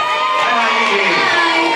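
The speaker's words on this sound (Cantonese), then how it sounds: "啲粉絲可唔可以大聲啲俾掌聲啊先？" Fans at a press conference for actress Niki Chow cheer and applaud in a continuous dense crowd roar, with shouts and whoops rising through it.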